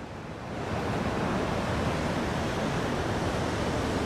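Water flowing in a stream at Devils Hopyard State Park, a steady broadband rush that swells in the first half second and then holds constant and fairly loud, with no voices.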